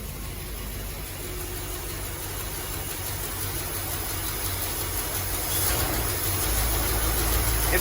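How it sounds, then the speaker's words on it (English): A 1970 Ford LTD engine idles steadily with a rough, uneven, misfiring rumble, close up and fairly loud, growing slightly louder toward the end. "It's idling!"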